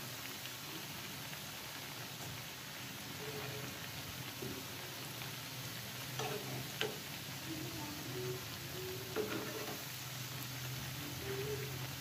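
Sweet bread sticks fry in a pan with a quiet, continuous crackling sizzle like fine rain, with scattered small pops and a voice faintly in the background.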